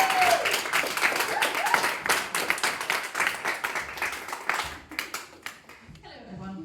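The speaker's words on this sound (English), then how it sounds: "let's just give her a huge round of applause" An audience applauds in a steady burst of dense clapping that thins out toward the end, with a voice starting to speak as it fades.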